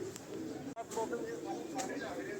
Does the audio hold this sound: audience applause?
no